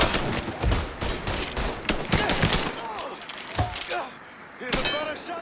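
Mafia III bank-job shootout: rapid bursts of gunfire crack close and loud in scattered volleys, with shouting voices mixed in between the shots.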